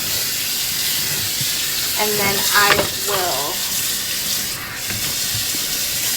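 Sweatpants are rinsed under a running tap before tie-dye and bleaching, a steady close hiss of flowing water while someone speaks briefly midway.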